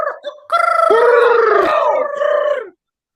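A voice imitates a loud, close bird call like a rooster's crow, one drawn-out, wavering cry lasting about two seconds that ends abruptly.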